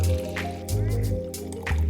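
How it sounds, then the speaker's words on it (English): Liquid from steamed sausages pours into a container in short gurgling splashes and trickles, fairly close and quiet. "So I'm going to pour this liquid into a container"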